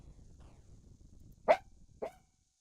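A dog barks twice in quick succession, two sharp, fairly close barks about half a second apart over a low background murmur, then silence.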